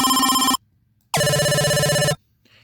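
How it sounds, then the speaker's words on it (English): A telephone ring made on a modular synthesizer from square waves and a square-wave LFO: two buzzy, warbling electronic rings, close and loud, with a short silence between them and no talk. "it sounds like a telephone"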